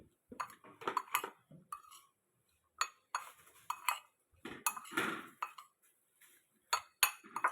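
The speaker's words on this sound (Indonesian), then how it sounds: "kita aduk dulu supaya garam menyatu" Metal utensil scraping and clinking against a pan in short irregular bursts while stirring salt into pak choi, close up, with brief quiet gaps between strokes.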